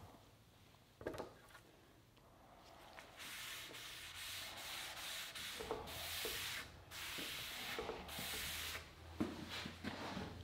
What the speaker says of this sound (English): sanding in between coats with 320 sandpaper